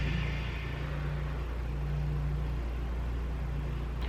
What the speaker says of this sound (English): mowing, so that's what that noise is